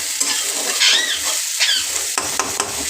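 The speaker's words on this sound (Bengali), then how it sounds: "উচ্ছেটা দিয়ে দিলাম। উচ্ছেটা হাফ ভাজা ভাজা হয়ে গেলে তারপরে কুমড়োটা দেবো।" Sliced bitter gourd fries in oil in a pan, a dense, steady sizzle with spatula scrapes and stirring sounds at close range, and no talking.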